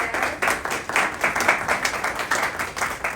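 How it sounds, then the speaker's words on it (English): An audience at an FBLA 2025 conference session claps, a steady rippling applause of many hands at moderate level, continuous with slight swells through the clip and no speech over it. "Give yourselves an applause"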